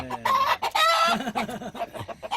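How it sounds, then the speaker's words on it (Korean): A rooster clucks up close, a quick run of short throaty clucks after a brief raised squawk, with no other sounds around it. "수탉이 두 마리가 서열 싸움을 하느라고 맨날 싸워요."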